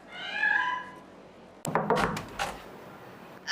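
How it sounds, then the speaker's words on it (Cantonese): A stray kitten stuck on an awning in an old urban district gives a few plaintive, drawn-out meows, followed by several close knocks and bumps. "你聽唔聽到啊？ 貓叫聲咯，"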